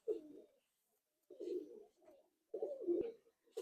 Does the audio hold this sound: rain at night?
no